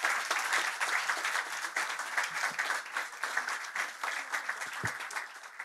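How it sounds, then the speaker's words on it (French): Sustained audience applause for startup presenters at a science-school event in Metz, a dense, even wash of many hands clapping steadily throughout. "On peut encore les applaudir bien fort."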